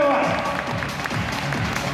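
A live audience applauds a raffle winner at a prize drawing for theater tickets, a steady wash of clapping that a voice talks over.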